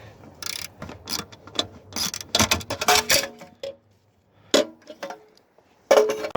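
Quick bursts of ratchet clicking while removing a 10mm bolt from the blower motor of a Lexus LS460, close and dry, in short irregular runs separated by pauses.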